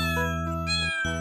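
A cat meows in a drawn-out, tonal cry, pausing briefly before a second meow, close and clear with no talking.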